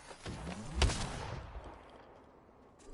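Gunfire in a video game, a quick cluster of loud close shots in the first second with one heavy report, then a fading echoing tail.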